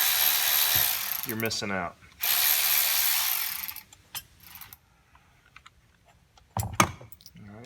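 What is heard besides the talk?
Milwaukee electric ratchet removing carburetor bolts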